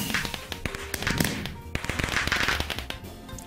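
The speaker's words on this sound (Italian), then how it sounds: "Sempre belli i fuochi d'artificio" Video game fireworks crackle and pop in rapid irregular bursts, a dense string of sharp snaps with occasional louder bangs and a fizzing wash between them.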